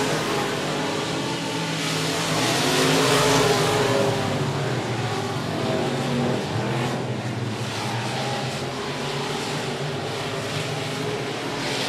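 Race cars roar past on the short oval at 105 Speedway during a Short Track Super Series event, a loud, continuous wash of engine noise that swells and fades slightly as the pack circulates.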